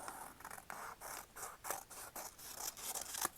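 Scissors snipping through paper in a craft session, a quick run of about ten crisp, close cuts in steady rhythm, quiet and alone.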